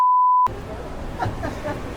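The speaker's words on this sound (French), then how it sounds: "ça va falloir le biper au montage" A single steady censor beep tone lasts about half a second, then cuts to a busy background of voices and ambient noise.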